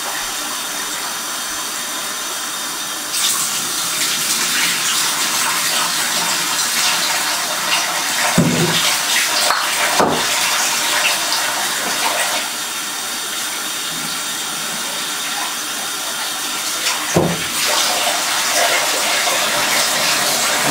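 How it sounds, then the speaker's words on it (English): Steady rushing water pours into a tub, filling beer bottles, a continuous broad splashing stream with a few brief louder gurgles, no talking. "We're just going to fill up each individual bottle"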